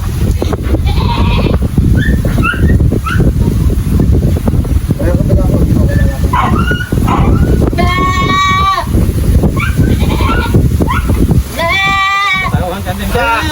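Goats on a farm bleat in loud, wavering cries, two prominent calls standing out near the middle and end, over constant wind noise on the microphone and nearby talk.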